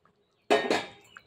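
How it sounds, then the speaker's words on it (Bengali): Prawn muitha dumplings being dropped into gravy in a pan make a brief close clatter of two quick knocks and clinks, then a fading rattle, with silence around it. "এইবারে আমি এই যে মুইঠাগুলো ছেড়ে দিচ্ছি।"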